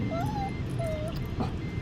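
A household dog gives two drawn-out, high whining yelps in the morning, fairly close, over a steady low background rumble.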